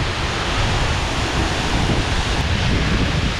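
Water pours steadily at Didupe waterfall, a dense, loud roar of rushing water that stays constant throughout, with no voices.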